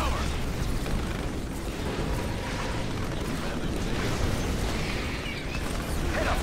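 Continuous battle noise from Command & Conquer 3 fighting Scrin air units, dense rumbling explosions and weapons fire blending into a steady roar of moderate loudness.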